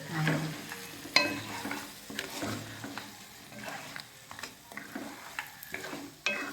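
Crab curry stirred in a frying pan, with scraping strokes and a low sizzle running steadily through the clip, up close and alone.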